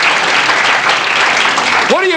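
A television talk show studio audience claps loudly and steadily throughout, with a brief voice rising over the clapping at the very end.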